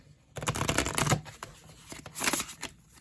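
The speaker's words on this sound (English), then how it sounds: "Shuffle a few times here. Sorry if that's loud." Two loud bursts of cards being shuffled, riffling rapidly and close up, with a brief pause between them and a few softer flicks.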